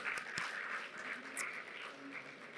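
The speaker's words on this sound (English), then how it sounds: "a round of applause to Karim." An audience at an African agritech start-up pitch event applauds steadily for a couple of seconds, a dense, even patter of clapping heard from within the room with a few sharper claps near the start.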